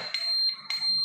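Detector held near a uranium test rock gives short, high electronic beeps in quick succession, two or three brief pulses over about a second, faint and close.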